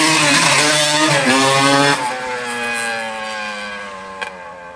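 A 1980 Yamaha YZ125 air-cooled two-stroke competition motorcycle engine revs with a buzzing, harmonic-rich rasp that rises and dips, then settles into a lower steady idle, loud and close.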